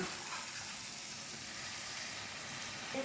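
A spicy cream pasta sauce with mayonnaise, Schezwan chutney, soy sauce and green chilli sauce simmers in a pan, giving a soft, steady, continuous sizzle and bubbling with no speech.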